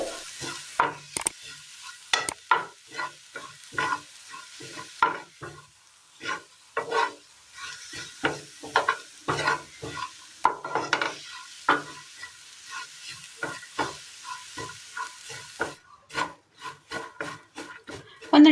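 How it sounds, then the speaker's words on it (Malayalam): Finely chopped ginger dries out in a hot pan as a spatula scrapes and stirs it in quick repeated strokes, each scrape a close, dry rasp over a faint sizzle. "അടുപ്പത്തൊരു പാൻ വെച്ച് കൊടുത്തതിന് ശേഷം നന്നായി ഒന്ന് ചൂടായി വരുമ്പോൾ ഇതിലേക്ക് നമ്മൾ കൊത്തി അരിഞ്ഞ് ഇഞ്ചി ഇട്ട് കൊടുക്കാം."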